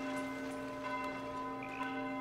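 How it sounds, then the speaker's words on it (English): In the video game Foundation, a church bell on the hill rings with a sustained, resonant tone and slow repeated strikes, faint and distant, with nothing else over it. "The church up on the hill ringing its bell."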